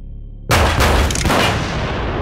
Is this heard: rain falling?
no